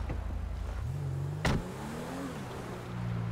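Car in the video game LSPDFR, a steady engine hum with a sharp clunk midway and a shifting motor tone, heard alone with no talk.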